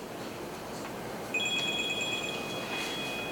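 A telephone rings during a city council meeting, its electronic trill repeating as a high, steady warble over room noise in a quiet hall, with no talk.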